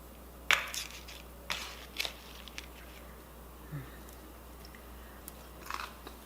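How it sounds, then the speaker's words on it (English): Crunchy bites of a freshly cooked dish with onion and plenty of salt, chewed up close in a few sharp crackling bursts, then softer scattered chewing. "Can you hear that crunch?"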